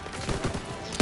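Rapid gunfire in the World War II shooter Call of Duty: World at War, a brief burst of automatic shots with a louder blast at the very end.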